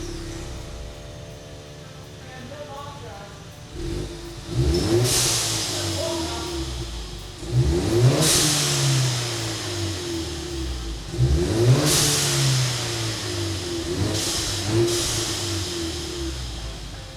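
A lowered 2018 Ford Mustang EcoBoost on its stock exhaust with a blow-off valve idles, then revs hard three times, each rise falling back with a hiss, loud and close.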